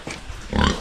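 A pregnant sow on a farm gives a short, close, low grunt that swells louder toward its end.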